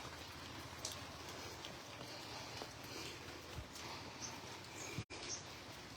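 Steady rain falls over a village on a wet day, a dense, even hiss of drops on leaves and surfaces with occasional louder drips, heard alone with no voices.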